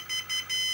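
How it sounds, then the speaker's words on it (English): Short electronic beeps from a Storm32 brushless gimbal controller on a 3D-printed GoPro/Mobius gimbal after it initializes and finds level, a few bright tones pulsing in quick succession, close and fairly quiet. "There's the beeps, it's found its level"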